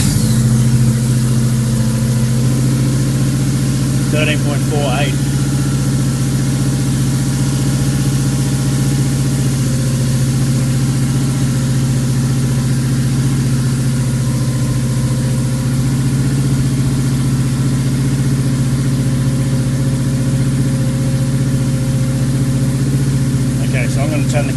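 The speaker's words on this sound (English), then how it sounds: "Now I'll start the car" Subaru EA82T turbo engine running at a steady idle in a garage, a loud continuous low hum and drone throughout, with someone talking briefly over it.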